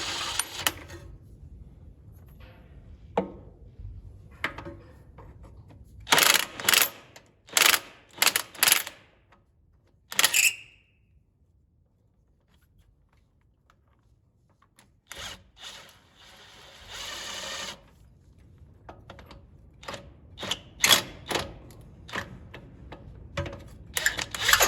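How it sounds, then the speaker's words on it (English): Impact gun running bolts out on the front end of an International 986 tractor, several short bursts of rattling hammering spaced apart with quiet gaps between them. "so we're just gonna run them out with the impact gun."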